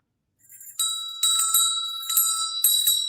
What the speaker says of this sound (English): It is definitely a Christmas bell.